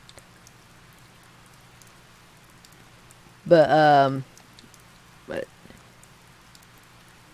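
Steady rain in the video game Harvest Moon: Save the Homeland, a soft, continuous hiss in the background, briefly interrupted by someone speaking.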